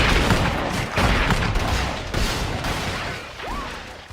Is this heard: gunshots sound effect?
yes